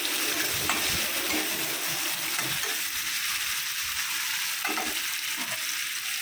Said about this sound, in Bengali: পেঁয়াজটা আমি লাইট গোল্ডেন করে ভেজে নেব